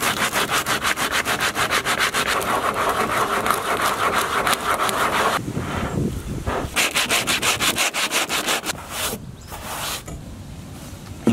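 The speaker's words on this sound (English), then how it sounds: "Now I'm going to get a rough sandpaper and scrape off and make a rough surface for the bond to take." Rough sandpaper scrapes back and forth across the keel of a Coleman HDPE canoe, a loud, steady run of rhythmic rasping strokes that later turn shorter and more broken, with no voices.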